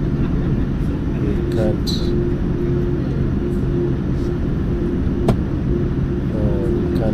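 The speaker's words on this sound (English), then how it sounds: "There's a plane landing." Airplane landing at an airport, heard from inside a plane on hold waiting for takeoff: a steady loud engine and cabin rumble fills the clip, with a person speaking briefly over it.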